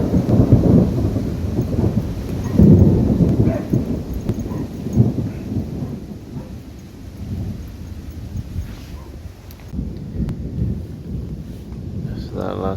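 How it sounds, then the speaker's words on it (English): Thunder rumbles close overhead at midnight during a rainy storm, heard from a rooftop tent on a Jeep: deep rolling booms swell and fade across the whole stretch over steady rain, with no talk. "That last bit of lightning was ridiculously close."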